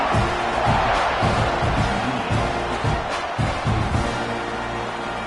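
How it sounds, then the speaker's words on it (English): A stadium crowd buzzes in an American football video game after a score. A dense, steady roar of noise is broken by periodic dull thumps. "this crowd is buzzing after that last score"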